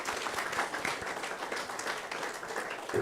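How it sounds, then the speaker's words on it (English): An audience at a general assembly of the African Man and Biosphere Reserves Network applauds the presenters, with steady, dense clapping from a full room that holds evenly for several seconds. "let's applaudissons pour les présentateurs."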